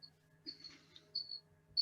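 Insects, named as cicadas, chirp faintly in short high-pitched bursts, a few brief shrill buzzes against a quiet background hum.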